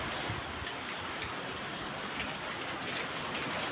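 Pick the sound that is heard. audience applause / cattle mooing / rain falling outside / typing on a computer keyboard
rain falling outside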